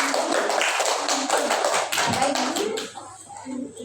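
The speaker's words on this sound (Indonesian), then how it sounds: "Tepuk tangan untuk temannya." Classroom applause in a multigrade primary school lesson: a room of pupils clapping rapidly and together at close range, thinning out toward the end with some voices emerging.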